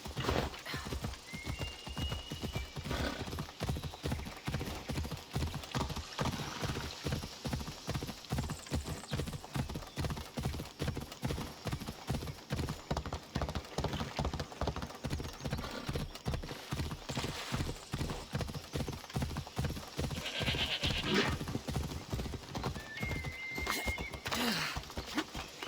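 A horse in the video game Assassin's Creed Odyssey gallops with a steady, rapid clip-clop of hooves throughout and occasional neighs, fairly quiet overall.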